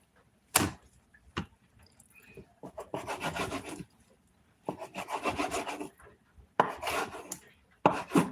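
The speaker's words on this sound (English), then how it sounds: "I'm going to fillet these breasts." Chicken breasts being filleted with a knife: rasping, sawing strokes sound close and fairly loud, coming in several separate bursts with quiet gaps between them, with a couple of sharp knocks against a wooden board and no talking.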